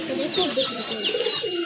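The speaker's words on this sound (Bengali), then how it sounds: "আর এই যে দেখেন সবগুলো কবুতর একসাথে আছে" Domestic pigeons kept together in a group, cooing in soft, overlapping low warbles with a few higher chirps mixed in, close and continuous.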